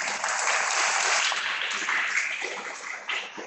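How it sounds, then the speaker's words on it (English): Students at a school Baisakhi assembly give a round of applause, a dense, continuous burst of many hands clapping at steady volume. "give yourself a big round of applause"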